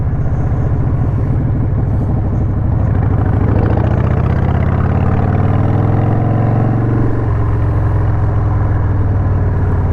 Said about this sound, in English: this is a good running bike